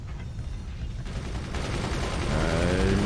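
Nukes launch in the strategy game Forts as a dense rolling barrage of blasts and rumbling booms that builds louder over a few seconds, with no talk.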